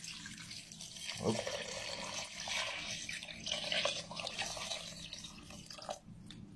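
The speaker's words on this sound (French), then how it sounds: "Maintenant, tu mets l'eau à hauteur." Water pours into a cooking pot to fill it level with the food before a long covered simmer, a steady splashing wash lasting several seconds with a voice briefly speaking over it.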